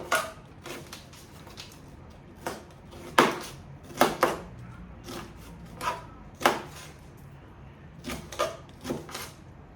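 A knife cuts food into strips on a cutting board, giving irregular crisp chopping taps, some single and some in quick pairs, spaced apart against a quiet room background.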